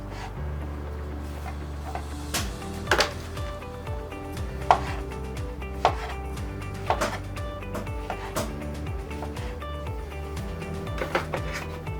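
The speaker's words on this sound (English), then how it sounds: "Here I've got some large cut mushrooms which I'm going to cut into about 1/2 inch slices" Large mushrooms being sliced into half-inch slices with a knife on a cutting board, giving a series of close, crisp chops at irregular intervals over a faint background hum, with no voices.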